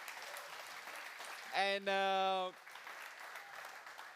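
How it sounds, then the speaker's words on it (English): Audience applause at closing remarks: a steady wash of clapping continues throughout at moderate level, briefly overlapped by a voice speaking a single drawn-out word near the middle. "And guys, one more round of applause."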